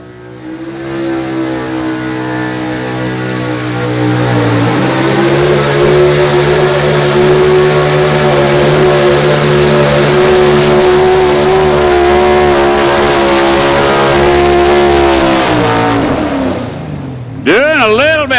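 Chevrolet pro stock 4x4 pulling truck at a state fair outlaw pull roars loudly, its engine climbing in pitch and holding a sustained high-revving howl for over ten seconds before dropping off sharply near the end.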